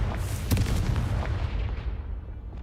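A Confringo spell blast from Hogwarts Legacy strikes and breaks an object, giving a loud booming burst with a sharp crack early on and a rumbling, low-heavy tail that lingers to the end, with no voices.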